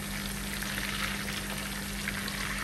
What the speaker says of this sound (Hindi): दाल बन रही है जी, बस ये अब तड़का लगेगा।